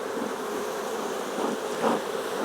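Honey bees hum around a hive that has just swarmed, a dense, even buzz with a slight swell near the end and no voices.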